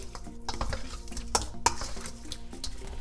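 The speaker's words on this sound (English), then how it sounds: "I'll be mixing it with the seasoning. I'm just gonna go ahead and mix." Raw fish being mixed with seasoning in a bowl, a close, continuous wet stirring with scraping and a few sharp clinks against the bowl, and no talking.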